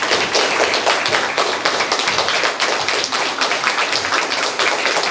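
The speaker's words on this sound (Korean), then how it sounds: "박수로 축하드리기 바랍니다." A church congregation at a Korean Presbyterian church applauds in celebration during a ceremony for a pastor's retirement honor. The clapping is crisp and percussive with sharp individual hand claps in a lively, uneven patter.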